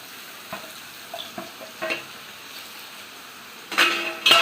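Tomatoes go into a pan of brinjal curry frying on the stove, with a low steady sizzle and scattered soft stirring scrapes, ending in two louder bursts of hissing and clatter.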